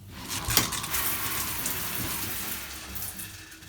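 Shower spraying in a small bathroom, a steady broadband hiss of falling water that runs continuously and evenly close by, with no voices.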